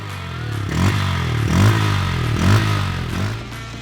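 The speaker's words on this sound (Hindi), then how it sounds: "इंजन चालू करते ही एग्जॉस्ट से एक बढ़िया आवाज़ निकलती है।" A Bajaj Pulsar N160 motorcycle engine idles close by with a deep, throbbing exhaust note, rising in several short revs at a steady rhythm.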